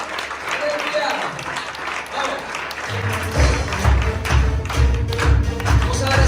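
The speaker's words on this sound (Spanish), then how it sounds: "le damos el mejor de los aplausos que tenemos al Señor" A church congregation starts clapping and applauding, building from light scattered claps into fuller applause, while a voice talks over it.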